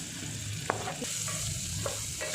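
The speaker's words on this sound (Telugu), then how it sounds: "ఈ ఆనియన్ తరిగి పెట్టుకున్నాం కదా అవి కూడా వేసి బాగా వేయించాలి" Oil sizzles steadily as chopped onions fry in a pan for bottle gourd curry, with a few short stirring scrapes over the constant hiss.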